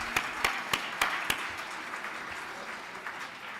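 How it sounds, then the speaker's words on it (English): A handful of loud, separate claps open, then a softer round of applause spreads through a banquet room at an awards gala and fades to a faint, scattered patter. "Let's give a round of applause to this guy, Demetrius Boutros."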